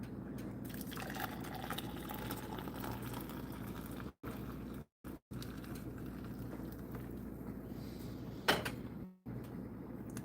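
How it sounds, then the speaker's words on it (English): Hot boiled pickling liquid pours into a measuring cup, a soft continuous bubbling, gurgling stream heard faintly near the stove, broken by a few brief gaps and a short clatter near the end. "I'm going to pour it back into our measuring cup"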